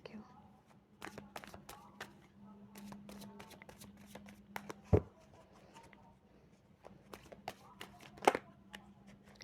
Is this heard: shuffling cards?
yes